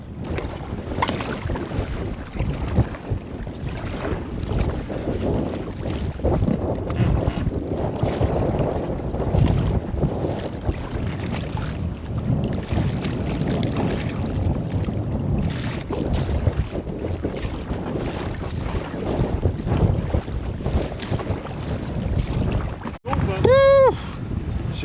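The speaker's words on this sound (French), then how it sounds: "Ça souffle fort, ça a soufflé fort toute la journée" Strong wind roars steadily across the microphone throughout a kayak expedition on Lake Inari in Lapland, a dense, continuous gusting rush with no pauses, ending with a brief sharp tonal sound near the close.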